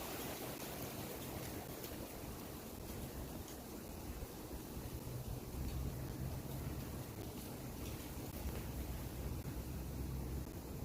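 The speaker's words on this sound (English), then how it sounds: "Listen to the wind." Constant rushing wind noise buffeting steadily with low rumbling gusts, loud and close, no voices.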